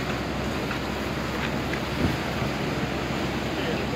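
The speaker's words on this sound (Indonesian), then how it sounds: "Ombak gelombang." Sea waves at the Kuala Senok river mouth during rain, a dense continuous roar of surf mixed with wind buffeting the microphone, steady and fairly loud with no distinct individual breakers.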